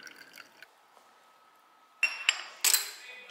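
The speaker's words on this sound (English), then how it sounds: "Glass straw." Glass straw tapping and clinking against a glass, a few bright, sharp clinks close up near the end after quiet, faint background.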